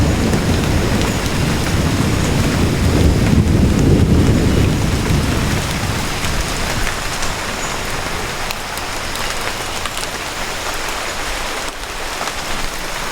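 Heavy tropical rainstorm in a rainforest canopy, with a dense steady roar of rain on foliage and a low rumbling surge of thunder early on, continuing as a loud unbroken downpour.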